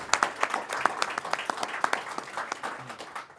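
Audience applause at a state government event honoring a decorated Iraq war veteran, a moderate round of scattered hand claps with sharp individual slaps, steady throughout and slowly thinning toward the end.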